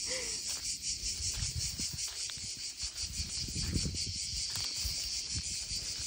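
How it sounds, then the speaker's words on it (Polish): Cicadas drone in a continuous high, shrill buzz, steady from start to finish, with soft scattered rustles beneath, on hotel grounds in Lalez, Durrës, Albania. "Słychać to tylko cykady."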